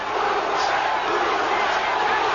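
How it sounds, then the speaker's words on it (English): A boxing arena crowd at a 1989 Roberto Duran versus Iran Barkley fight roars and chants in a steady, dense wall of sound that goes on without a break. "The crowd starts to chant again."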